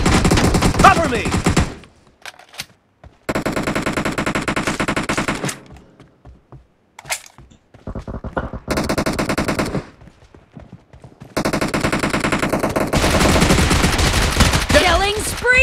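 Rapid PP-Bizon submachine gun fire in the battle royale game PUBG, loud sustained automatic bursts separated by short pauses and silences, with a stretch of continuous firing at the end.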